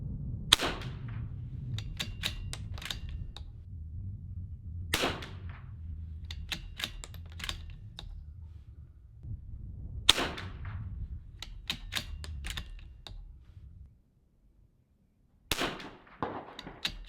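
Rifle shots from a .22LR loaded with Lapua Long Range ammunition, four sharp cracks spaced several seconds apart among fainter clicks and handling noise, then a final shot after a brief quiet.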